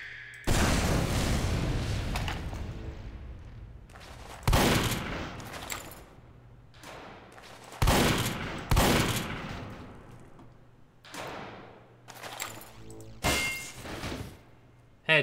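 Weapon fire in Team Fortress 2 target training, a series of loud shots and blasts that come in irregular bursts, each trailing off into echoing reverb, with no voices.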